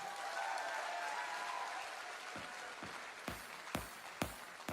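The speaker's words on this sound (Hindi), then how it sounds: "सारी जोरदार तालियां बजाई आप सभी लोगों ने।" Audience applause in a crowded training-meeting hall, a steady broad wash of clapping that runs throughout and ends in a few sharper louder claps near the close.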